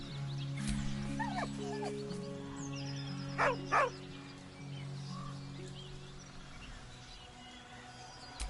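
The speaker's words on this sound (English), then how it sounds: "With a deep, heartbroken whine, the dog bows his head." A dog in Baldur's Gate III gives a couple of short, high whines over a steady low game hum and soft ambient music.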